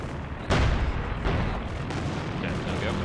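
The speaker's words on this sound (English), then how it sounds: "Fire rifle grenade there." A rifle grenade fired in the Company of Heroes strategy game lands as a sudden heavy boom, followed by a second blast and rolling battle noise, loud and dense over constant gunfire din.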